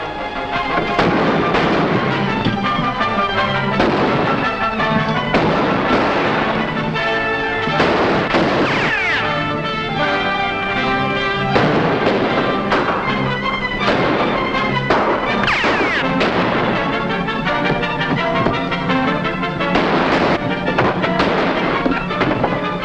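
Rapid, loud gunshots crack and echo through a western shootout, dense overlapping volleys continuing almost without pause for over twenty seconds.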